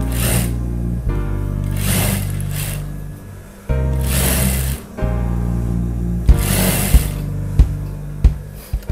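Short bursts of a sewing machine stitching a dress bodice onto a gathered skirt, close and fairly loud, the motor whirring in runs of a second or two separated by brief pauses and a few sharp clicks.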